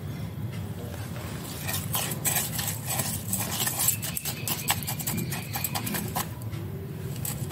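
Peepal churan being stirred with lemon juice in a bowl, a spoon clicking and scraping in quick irregular taps, close and fairly faint, with occasional soft speech.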